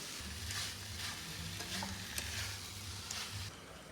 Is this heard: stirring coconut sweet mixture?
yes